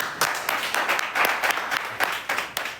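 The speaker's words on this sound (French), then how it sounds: "Applaudissons pour Ansel Mérine, s'il vous plaît." Audience applause at a grand finale show, a dense burst of many hands clapping with rhythmic peaks, loud and close, lasting throughout.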